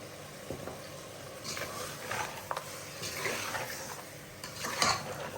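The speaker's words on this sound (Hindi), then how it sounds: "और इसको अच्छे से मिक्स अप कर लेंगे।" Spoon stirring coriander and red chili powder into a simmering mutton stew, soft scraping against the pot over a faint steady sizzle, close and quiet.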